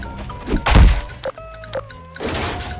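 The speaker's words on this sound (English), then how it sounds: "I fired a ray gun and it kills me." A ray gun blast lands in Garry's Mod with a heavy, booming thunk, followed by short electronic tones and a second impact, loud and close.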